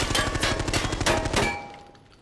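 A short rapid burst from a scoped gun in Arena Breakout Infinite, rattling close and loud in a steady automatic rhythm for over a second before cutting off into a fading echo.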